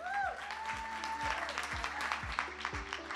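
Audience applause at a business summit panel session, steady clapping from a crowd throughout, with a voice and a faint tone briefly sounding over it near the start.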